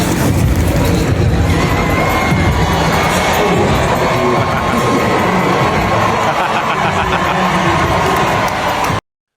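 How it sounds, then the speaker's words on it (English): Baseball stadium fans cheer loudly for the bat retrieval dog, a sustained roar of crowd noise with shouts and a voice speaking, cutting off abruptly near the end. "When the bat retrieval dog gets more applause than the players"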